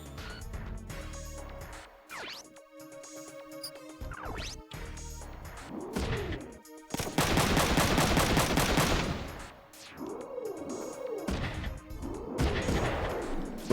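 Gunfire in the Front Mission 3 video game: sharp shots and rapid bursts with crashing impacts, building to a dense, loud volley midway, then scattered whooshing effects trailing off afterward.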